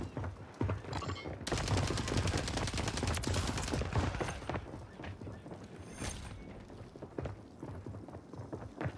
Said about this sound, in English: I heard him shooting him.